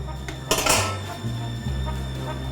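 A stuffed turducken is lifted into a 15 by 11 inch metal baking pan, heard as a sharp metallic clatter and clanks of the pan followed by lower scraping knocks, close and fairly loud.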